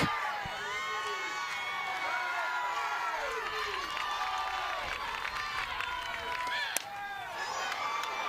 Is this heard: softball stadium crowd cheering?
yes